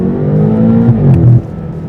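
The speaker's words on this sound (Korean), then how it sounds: "급가속." A BMW M8 Competition in sport mode pulls a brief hard acceleration, its engine note rising loud and close over about two seconds before easing off.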